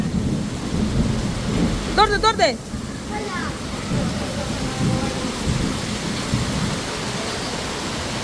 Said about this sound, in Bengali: এই তো প্রচন্ড পরিমাণে বৃষ্টি হচ্ছে সকাল সকালই